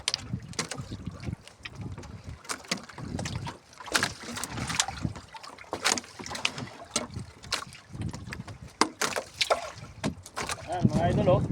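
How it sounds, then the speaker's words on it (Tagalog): Gusty wind roars across a microphone on a small boat out on open water, in loud irregular bursts with splashing and someone talking over it. "Kasi mahangin."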